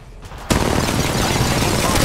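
Dense gunfire from the mobile battle royale game Apex Legends Mobile bursts in at full loudness after a quiet half-second and keeps going as a steady, continuous barrage for the rest of the clip.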